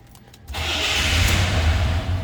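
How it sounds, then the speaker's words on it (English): A 1973 Buick Centurion's 350 V8 cranks and catches after a brief quiet moment, then settles into a steady, loud, close idle rumble with no voices. "It's fired up. Number 350 V8."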